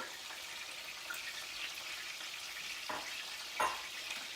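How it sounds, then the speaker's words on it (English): Peppers fry in a pan with a soft, steady sizzle, quiet and close, broken by a couple of brief stirring clicks and no talk. "Your peppers, go in."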